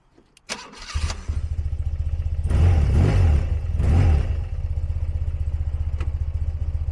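A 1982 BMW R100RT motorcycle engine cold-starting close by: starter whir, the engine catching, two throttle blips, then a steady loud idle thump.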